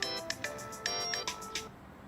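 A mobile phone rings with a bright electronic ringtone, several short repeating melodic bursts, clear and close, fading at the end with no talk over it.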